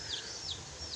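Native chicks in a pen with wood bedding peep in a quick series of high, thin chirps, close and faint over a quiet background.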